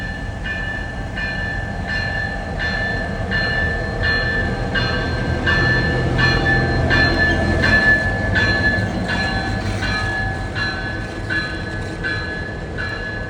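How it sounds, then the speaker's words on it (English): Locomotive 9610 runs light power heading north, a loud close engine roar with a steady rumble and a regular rhythmic clatter of wheels over rail joints, plus a sustained ringing tone throughout. "we catch 9610 heading north, light power"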